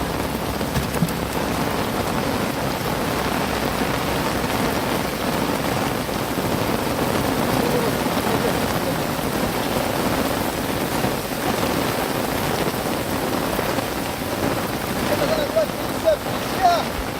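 Steady rain falls throughout, a dense continuous patter on surfaces during monsoon-season net fishing for crabs in a coastal creek. The wash stays even and fairly loud, with faint voices in the background.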